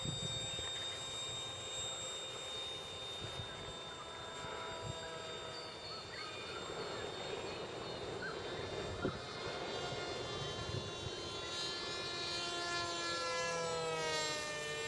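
A scratch-built balsa model plane buzzes steadily overhead as it flies in for a landing, its small engine whine holding at a fairly constant moderate level with slight pitch shifts, set against outdoor background noise.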